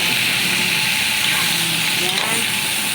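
Steady loud sizzle of pork and chicken adobo frying in a pan as liquid is poured in, a continuous hiss and crackle close up.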